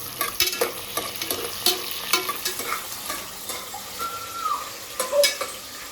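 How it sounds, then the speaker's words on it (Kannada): Sliced onions and green chillies fry in a hot pan with a lively crackling sizzle, broken by frequent scraping clatters of a spatula stirring against the metal. "ಈರುಳ್ಳಿ ಹಸಿಮೆಣಸಿನ್ಕಾಯಿ ಹಾಕೊಂಡು ಫ್ರೈ ಮಾಡಬೇಕು."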